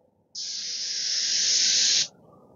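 One steady, loud hiss from a spray gun coating the edge of a Shaker-style door, lasting under two seconds and then cutting off cleanly.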